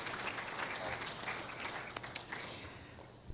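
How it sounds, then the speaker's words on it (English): An audience at a science festival talk applauds at the close of a presentation, a steady, somewhat distant wash of clapping hands from a crowd that holds evenly without any speech. "They are all clapping"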